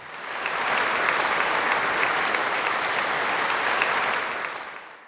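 A church congregation breaks into strong applause, a dense, even roar of many clapping hands swelling in, holding steady for several seconds, then tapering off.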